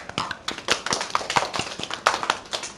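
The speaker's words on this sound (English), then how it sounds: "So let's do a round of applause." Kindergarten children clap for a classmate in a classroom, a brisk burst of many uneven handclaps, close and fairly loud, going on throughout.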